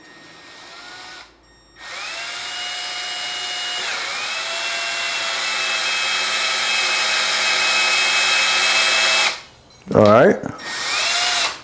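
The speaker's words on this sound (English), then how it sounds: "Let me put the drill up here." A handheld power drill runs steadily for several seconds with a whining, slightly shifting pitch during a DIY chess-piece recognition chip installation, starting and stopping abruptly, with a short burst of louder grinding near the end and a brief voice at the start.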